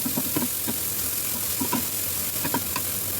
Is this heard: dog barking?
no